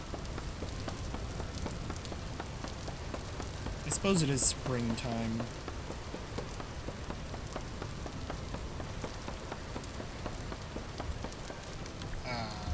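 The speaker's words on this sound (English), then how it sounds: "Why is it always raining?" Rain falls steadily in the survival video game Vintage Story, a continuous patter of drops on surfaces at moderate level, briefly overlaid by a short burst of louder game sounds, while someone speaks quietly over it.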